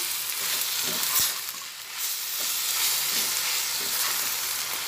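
Bread cubes for bread upma fry and get stirred in a pan, a soft continuous sizzle broken by occasional spatula scrapes, fairly quiet and without talk.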